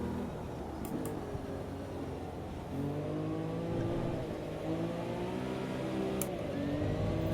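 Old Lamborghini in the Automobilista 2 sim racing game accelerating, the engine note climbing through the gears in rising sweeps with brief shift dips, steady and prominent with no talking.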